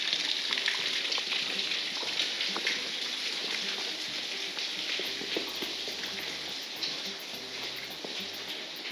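Steady rain patters across a flooded hacienda in Huasca de Ocampo, Hidalgo, a constant hiss with scattered drops and some low rumbling underneath, no voices.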